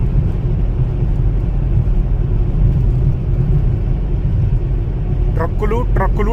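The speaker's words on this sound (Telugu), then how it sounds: "ఈ I-40 అనే హైవే మీద మొత్తం ఈ పెద్ద సెమై ట్రక్కులు తిరుగుతూనే ఉంటాయి, 18 వీలర్స్." Heavy traffic of big eighteen-wheeler semi trucks on the flat I-40 highway, heard as a loud, steady road rumble and whir from inside a moving car, with a voice briefly at the end.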